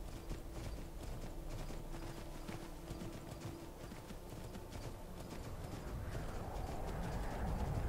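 Horse hooves clip-clopping at a steady gallop across open country in Skyrim Special Edition, a continuous rhythmic patter that grows slightly louder toward the end, with no talk.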